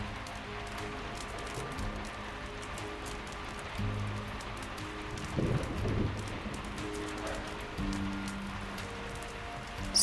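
Steady rain falls in the video game Diluvian Winds as a storm rolls in near a dock and lighthouse, a continuous wash of drops over low game music, swelling briefly midway.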